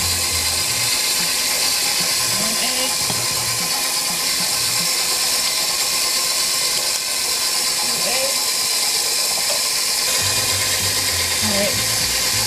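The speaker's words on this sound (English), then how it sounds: "I have my paddle attachment hooked onto this, so I'm just stirring it just to make sure that it gets incorporated" A stand mixer with a paddle attachment churns red velvet cake batter with a loud, constant motor whine and grinding rattle, while a person talks faintly over it.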